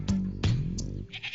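A goat gives a couple of short, close, loud bleats in quick succession, followed by softer rustling and faint background noise.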